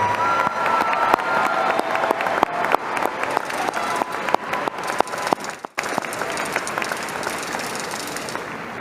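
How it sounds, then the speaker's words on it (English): A graduation audience at the Eastmont High School Class of 2025 ceremony claps in a dense, sustained wave of applause that fills the hall, fading a little toward the end. "Let's give them a huge round of applause."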